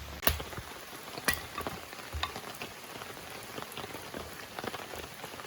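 Rain falls outside in rural Maine, a soft, even patter of drops on surfaces with a few louder nearby splats and taps, quiet and steady with no talking.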